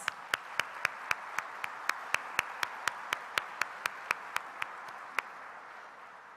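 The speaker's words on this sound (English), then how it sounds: "Please give Dr. Flores and the HACU team an incredible round of applause." Conference audience clapping, faint and sparse, with distinct evenly spaced claps standing out for about five seconds before fading out.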